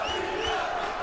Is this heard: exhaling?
no